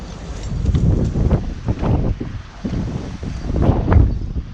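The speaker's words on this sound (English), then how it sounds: "it's kind of a windy night" Gusty night wind rumbles and thumps against the microphone, surging and easing in loud, uneven buffets with no other sounds.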